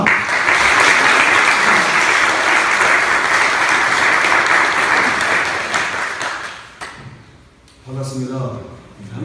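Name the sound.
applause welcoming the speaker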